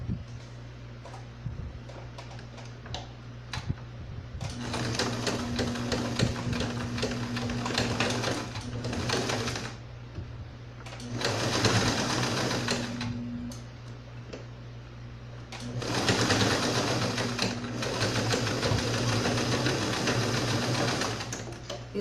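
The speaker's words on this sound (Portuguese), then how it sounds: "vou passar um pé de máquina aqui" A sewing machine stitches fabric for a doll body in three or four loud whirring runs, separated by quieter pauses with small clicks and handling sounds.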